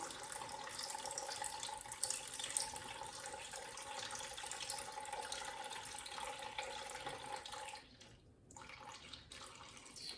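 Steady stream of water pouring from a tap for feeding a sourdough starter, continuous and fairly loud, briefly dipping near the end before resuming.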